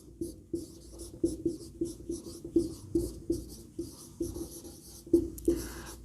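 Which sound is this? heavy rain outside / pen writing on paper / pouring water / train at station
pen writing on paper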